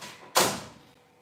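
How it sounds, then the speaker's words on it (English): A bedroom door swings shut with one solid, close thud that rings briefly and fades in a quiet room. "I'm going to shut my door"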